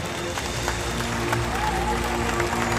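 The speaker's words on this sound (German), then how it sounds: "Wir klatschen alle in die Hände." Live audience at a Movie Park stunt show clapping their hands together as a warm-up, a steady dense wash of applause held at an even loudness for the whole stretch.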